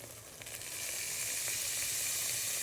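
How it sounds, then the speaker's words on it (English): Seasoned beef short ribs sear in a hot pan with no liquid added, a close sizzle that rises from a softer start into a loud, steady hiss. "I am going to pan sear my beef short ribs before I add any liquid to the pan"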